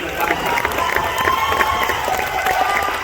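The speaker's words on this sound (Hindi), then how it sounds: "जोरदार तालियों से" Crowd applause at an All India Mushaira poetry gathering at the Pune Festival, a dense, even wash of many hands clapping with some crowd noise underneath, sustained throughout.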